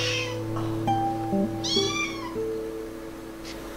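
Cat at a cat shelter meowing, a couple of short mid-pitched meows over a steady background hum, fairly close, with no one speaking.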